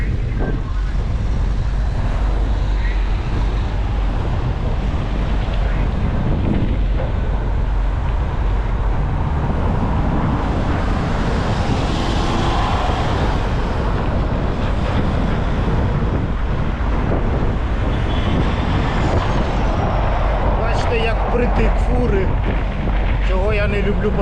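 Strong wind buffets the microphone throughout while cycling along a road, a loud, constant roaring rumble with gusting swells and no break.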